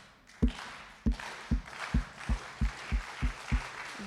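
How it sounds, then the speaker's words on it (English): An audience claps slowly in unison, about nine sharp group claps at a steady, deliberate pace, each ringing briefly in a room with no talking between them. "We're going to slow clap that pitch off."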